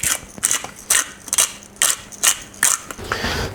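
A pepper mill grinds black pepper for a pumpkin ricotta gnudi mixture, giving about eight quick, evenly spaced bursts of dry ratcheting clicks, close and fairly loud.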